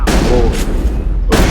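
Gunfire in the video game Mass Effect: a dense, continuous burst of rapid shots with a loud, sustained blast running the full length, briefly easing before another sharp surge near the end.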